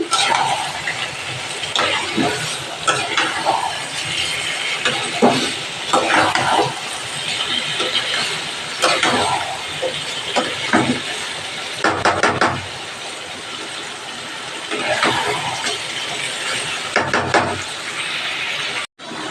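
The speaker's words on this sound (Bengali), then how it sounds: "দেখো বন্ধুরা ভালো করে কষিয়ে নিচ্ছি।" Chicken for a hand-battered Sunday recipe is stir-fried in oil in a pan as the oil separates, with a steady sizzle broken by repeated spatula scrapes and stirring clinks.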